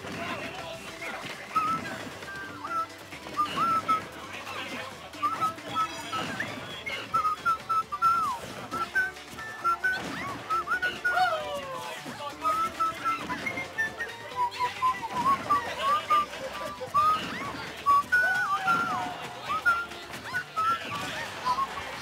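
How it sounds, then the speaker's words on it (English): A person whistles a wandering, unsteady tune in short phrases over the busy sounds of a Super Smash Bros. for Wii U match, the whistling fairly close and clear above the game noise. "I don't know if I can whistle meaningful commentary"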